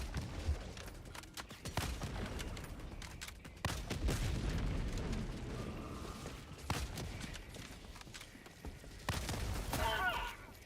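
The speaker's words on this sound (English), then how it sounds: "Throwing grenade." A grenade in the video game Helldivers 2 goes off amid a chaotic firefight, with sharp bursts of gunfire and several booming blasts over roughly ten seconds. Faint voices mix in under the noise.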